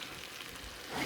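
Mutton yukhni pilau being stirred in a pot over gas, a soft steady sizzle with gentle scraping of the rice, growing a little louder toward the end.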